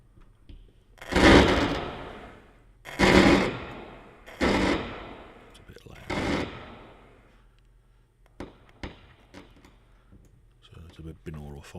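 A dry spark sound is processed to ring like a firework, giving four booming bursts at roughly even intervals, each with a long fading tail. Softer clicks and crackles follow at the end.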